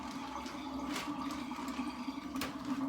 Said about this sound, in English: That is my sink draining.